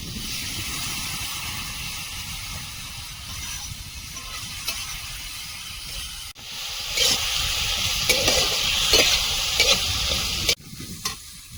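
Ground spice paste with tomato frying in a pan, a loud crackling sizzle with vigorous stirring and spoon scrapes that grow stronger midway, close up and with no one talking.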